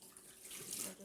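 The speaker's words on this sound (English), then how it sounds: "And then I'm going to drain the water off this now that they're wet." Water pours off soaked wheat seeds as they drain, a short, soft trickle and splash like a running tap, faint and close.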